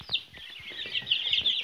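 Quails and chickens in a brooder cheep and cluck continuously in a busy, close chorus of overlapping calls.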